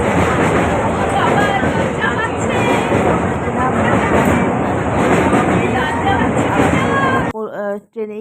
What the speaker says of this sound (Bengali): ট্রেনেই তো ট্রেন ছুটে চলেছে